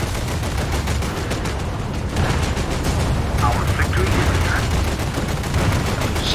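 Continuous rapid gunfire from a video game aimed at a sub chaser, a dense unbroken rattle of shots at steady loudness throughout.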